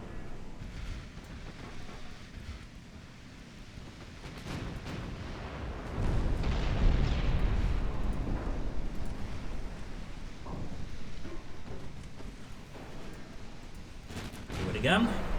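Deep booming naval gunfire from armor-piercing shells in the warship game Ultimate Admiral Dreadnoughts, a swelling rumble of heavy shots that rises midway and lingers beneath a voice giving orders.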